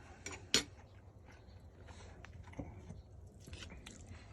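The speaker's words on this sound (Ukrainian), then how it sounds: "Пробуємо котлетку." Someone eats a meat cutlet at a meal, starting with a sharp clink of cutlery against a plate, then soft, close bites and chewing with a few faint clicks, with no talking.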